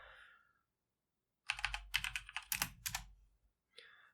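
Keys clatter on a computer keyboard as a command is typed into a Red Hat Enterprise Linux 9 terminal, a quick burst of close, crisp clicks lasting about two seconds between short stretches of quiet.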